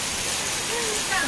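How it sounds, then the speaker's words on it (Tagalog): Heavy rain pours down in a dense, steady hiss that fills the short moment, with a voice faintly audible underneath. "Ang lakas ng ulan."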